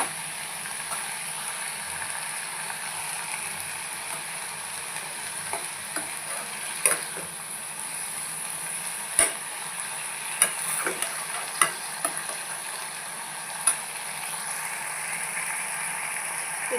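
Mixed vegetables cooking uncovered in an open pan, a steady, close sizzle running throughout with occasional sharp clicks of a spoon stirring against the pan.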